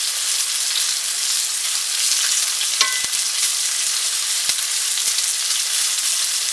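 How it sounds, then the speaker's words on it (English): Steak sizzles in butter with garlic in a cast iron skillet as the butter is basted over it, a loud, steady frying hiss close up, broken by a few faint clicks and knocks. "baste this butter right back over top"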